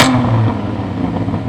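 A modified Lotus Emira sports car engine with a non-stock exhaust revs loudly and nearby, a sharp roar at the start that settles into a throaty idle rumble.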